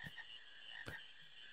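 Frogs croak in the PlayStation game Final Fantasy IX, a few short separate croaks spaced apart over a faint, steady ambient marsh drone, fairly quiet overall.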